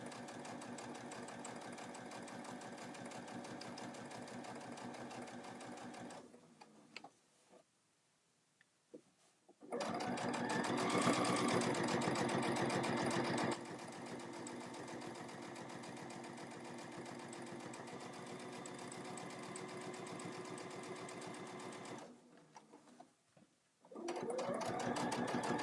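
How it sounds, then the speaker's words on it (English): Sewing machine stitching through a bag's pocket seam, running in long steady bursts close by, with a brief pause in between and a short gap near the end. "you're sewing through the seam of your pocket"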